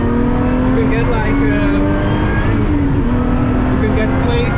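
Lotus Exige 360 Cup engine droning and shifting pitch as the car is driven on the Nürburgring, loud and close with rising and falling revs, with faint speech beneath.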